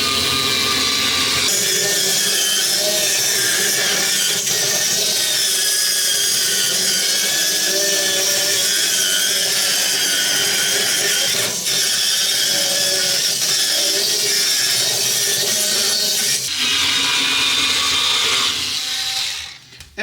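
Silvercrest electric cleaning brush running against a sink or oven surface, a loud continuous whirring and scrubbing buzz that holds steady before cutting off at the end, with no talk.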